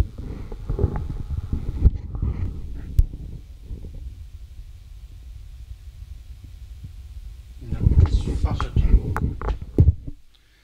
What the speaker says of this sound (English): These discs are making funny noises.